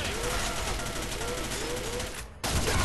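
Rapid gunfire rattles in the video game Arctic Combat as bots are shot, dense continuous bursts up close that stop abruptly near the end, with someone talking over it.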